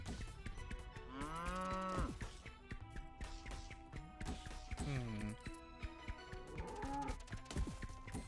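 Cartoonish cows moo in the Archvale video game, with several drawn-out calls over busy game music and sound effects.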